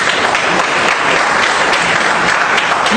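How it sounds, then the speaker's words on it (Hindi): Audience applause at a Vestige network marketing meeting, a dense steady wash of clapping from many hands held loud throughout, with no voices over it. "ताली बजनी चाहिए, नहीं बजनी चाहिए?"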